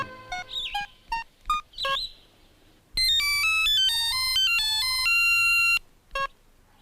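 Electronic phone ringtone: a few short chirping tones, then a bright melodic ringing run of stepped beeps for about three seconds, close and clear with no talking.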